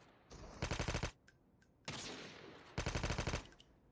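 COD Mobile gunfire rips out in three quick automatic bursts, each a rapid string of loud shots separated by brief pauses, with no talking.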